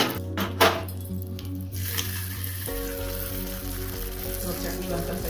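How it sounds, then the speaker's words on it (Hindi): Hot curry-leaf tadka tipped into a bowl of chutney, giving a sudden close sizzle and crackle with a clink of the pan, then a steady frying hiss that carries on for several seconds. "तो चलिए तड़के को डालते हैं चटनी में।"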